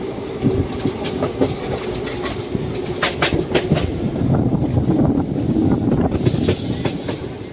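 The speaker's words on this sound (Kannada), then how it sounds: "ಟ್ರೈನ್ 8 ನಿಮಿಷ ಡಿಲೇ ಆಗಿ ಕಡೂರು ಜಂಕ್ಷನ್ಗೆ ಬಂದೈತೆ ರೀ." A train arriving at Kadur Junction rumbles and clatters steadily close by, with rhythmic clickety-clack of wheels over rail joints and birds faintly chirping in the background.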